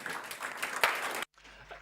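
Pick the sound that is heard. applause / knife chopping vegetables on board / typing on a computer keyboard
applause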